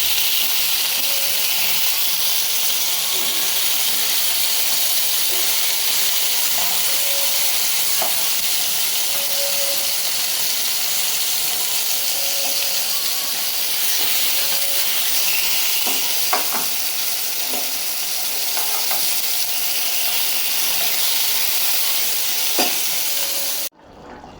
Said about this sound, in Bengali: মাংসের মশলা কষাইতেছে, আর মাছ ভাজি হইতেছে